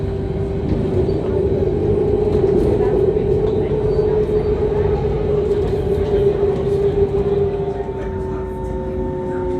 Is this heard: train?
yes